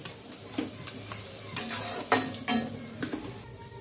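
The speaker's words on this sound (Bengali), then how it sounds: "তো ভালোভাবে নেড়ে ঢেকে রাখবো" Spoon stirring small shrimp curry seasoned with Kashmiri chili powder and a little sugar in a pot, with soft scrapes and light clinks of utensil on metal, irregular and close, over a quiet sizzle.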